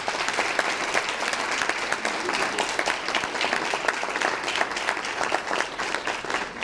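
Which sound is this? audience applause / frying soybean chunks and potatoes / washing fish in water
audience applause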